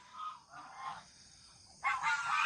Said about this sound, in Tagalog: Ingay ng gansa, parang aso talaga.